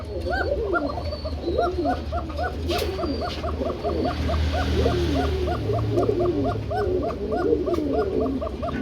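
Steady, overlapping cooing from several German Polish pigeons, a continuous rhythmic chorus of low burbling coos close by.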